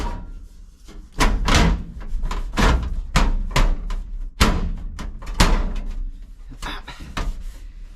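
A steel floor pan for a C10 truck being fitted into the cab floor during rust repair, producing a series of loud, irregular metallic thunks and bangs close by as the panel is dropped and knocked into place.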